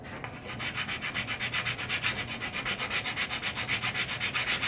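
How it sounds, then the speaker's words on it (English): Close, rhythmic hand sanding of a pinball machine's wooden shooter lane with 150-grit anti-clogging sandpaper: fast, even back-and-forth rasping strokes, steady and loud throughout with no talk. "150 grit sandpaper. It's supposed to be anti-clogging."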